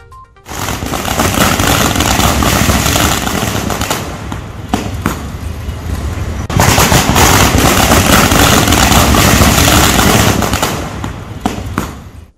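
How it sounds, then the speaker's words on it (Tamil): Dense, continuous crackling bursts of firecrackers set off at an office entrance in celebration, loud and close, rattling on for several seconds with a brief dip midway. "மகிழ்ச்சியுற்ற ஊழியர்கள் சிலர் அலுவலக வாசலில் பட்டாசு வெடித்து கொண்டாடினர்"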